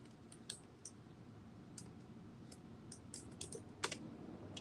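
Rapid, irregular clicks of typing on a computer keyboard, close and fairly quiet, in short bursts with brief pauses, over faint background hiss.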